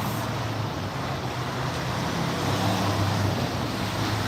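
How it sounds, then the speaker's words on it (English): A big old red Mack truck rolls by on the road, heard as a steady, dense roadway rumble and hiss that swells slightly toward the end, with no talking. "a red big old Mack truck just rolled by"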